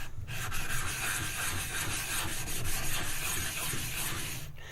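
A straight razor stroked back and forth across a 1k water stone to set the bevel, a continuous gritty rubbing and scraping with a repeated rhythmic texture, close and steady without speech.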